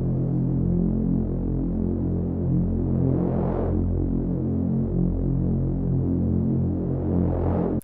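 A reese bass synth patch with reverb, a thick, detuned low drone throbbing steadily and alone, with a swelling filtered sweep near the middle and another rising at the end.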